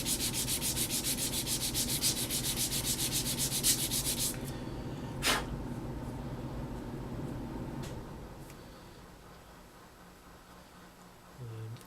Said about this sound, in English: it doesn't do any harm just to sand it up now